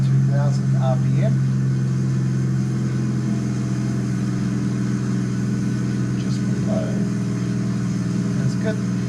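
A Kodiak aircraft engine in flight, throttled back to about 2,000 RPM, gives a loud, steady droning hum throughout, with voices talking faintly over it.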